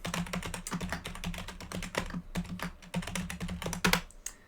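Fast, close keystrokes on a computer keyboard as a password is entered on a Linux machine, a dense run of clicks with a brief pause midway and a final burst near the end.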